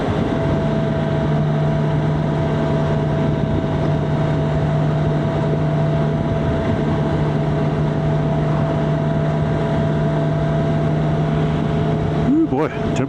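A BMW K1600 GTL motorcycle fitted with a Micron 4-in-1 stainless exhaust and jet kit cruises steadily through New Mexico, its engine drone constant and loud under heavy wind rush, with a rider talking over it.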